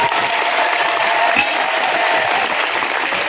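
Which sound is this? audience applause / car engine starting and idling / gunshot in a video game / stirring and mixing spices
audience applause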